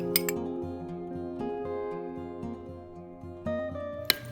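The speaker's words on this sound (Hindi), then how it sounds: "अब मैं इसको मिक्स करूँगी और ज़बरदस्त सॉस रेडी होगा जो हम अपने बर्गर पर लगाएंगे।" A spoon clinks steadily against a glass bowl while mayonnaise and hot chili sauce are stirred together, a run of light close metallic taps over a faint tonal background, ending in one sharper knock.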